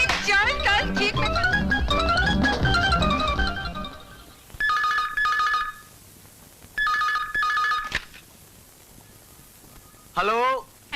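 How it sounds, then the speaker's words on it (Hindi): A telephone bell rings in clear, loud bursts of trilling tones, two separate rings after a stretch of loud music, with a short voice at the end. "बीना का फोन था।"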